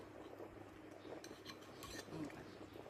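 Faint clinks of a metal spoon against a plate during a simple home meal, scattered irregular taps with soft speech-like murmur in the background.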